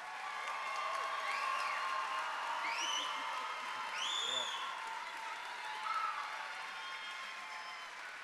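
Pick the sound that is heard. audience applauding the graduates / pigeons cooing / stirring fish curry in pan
audience applauding the graduates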